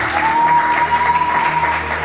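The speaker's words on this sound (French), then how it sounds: "Est-ce qu'on peut acclamer pour lui?" An audience claps for a 10-year-old boy during a church gathering, a steady burst of applause that fills the space, with a thin sustained tone running underneath.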